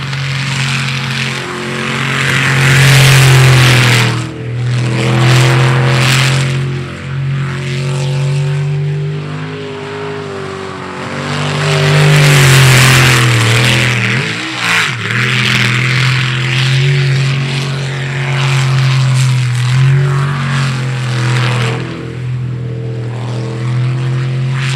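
Racing boats from the ASBR STIHL Pro Racing elimination round, including the 66M boat, roar off the start with loud, sustained engine drone that surges and revs, staying close and steady throughout.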